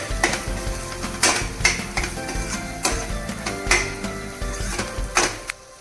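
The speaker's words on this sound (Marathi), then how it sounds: "मसाला चांगला मध्यम आचेवर फ्राय करून घ्या" Masala for Khandeshi patodya amti fries in a pan over medium heat: a steady sizzle broken by regular scraping stirs of a spoon against the pan, close and fairly loud.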